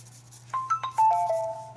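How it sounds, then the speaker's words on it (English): Phone ringtone chiming a short run of bright, clear tones in a rising-then-settling pattern over a steady low hum, fairly loud and close, with no talking. "And that was my phone"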